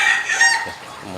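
Hens cluck and squawk close by in a short, lively burst on a small pig farm, their calls overlapping with a brief crowing note.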